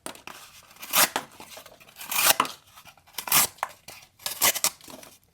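Tuch Knives Klick blade slicing cleanly through material, several separate sharp cutting bursts with rough tearing texture, close and fairly loud, spaced about a second apart.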